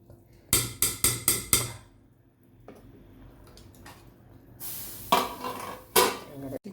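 A metal lid clatters on a pot of chicken curry: five quick clanks in a row, a pause, then scraping and another sharp clank.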